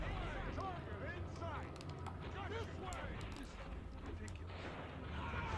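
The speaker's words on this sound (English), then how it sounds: "we're constantly having the Velocibot shooting at us" A Velocibot robot in The Incredibles video game fires repeated gunshots at the player, a busy run of sharp blasts and bursts mixed with game noise, while a voice talks over it.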